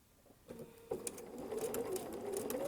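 Sewing machine stitching fabric along a curve, running in a steady whirring burst that starts after a couple of faint clicks and continues close and moderately loud to the end, with no talk.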